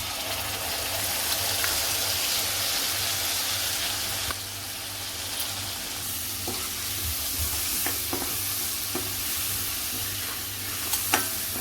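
Green masala frying in oil with garlic, turmeric and Koli masala for a kalet fish curry, a steady close sizzle and hiss with occasional light scrapes and taps of a spoon as it is stirred, no talking.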